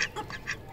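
A duck quacking among pigeons and chickens: a quick series of three or four nasal quacks in under a second, close and moderately loud, with no talk over it.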